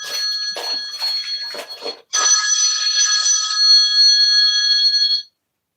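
A telephone rings loudly nearby in a home setting, a few short bursts of bright electronic trilling followed by one long sustained ring that stops abruptly.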